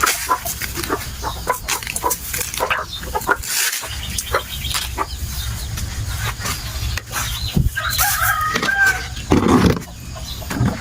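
Chickens and chicks cluck and chirp steadily over rustling outdoor farm ambience, with occasional louder calls standing out nearby.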